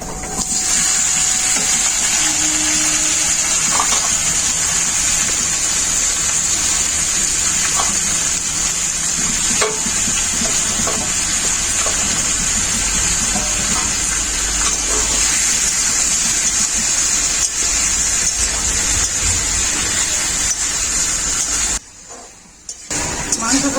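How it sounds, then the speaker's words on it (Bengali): Marinated chicken goes into hot oil with fried cumin seeds, setting off a loud, continuous hiss and sizzle that runs almost unbroken before a brief dip near the end. "ঢেকে রাখা মাংসটা দিয়ে দেব।"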